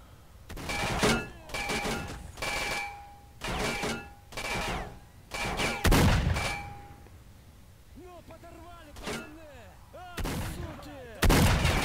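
Repeated gunfire aimed at bandits in the shooter S.T.A.L.K.E.R., firing in several sharp bursts across the span, loud and close, with ringing tails and occasional thuds between volleys.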